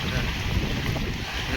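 Stormy coastal weather at a village shoreline during a sudden storm, a loud, steady roar of wind blasting the microphone over crashing sea waves, continuous and dense with no distinct breaks.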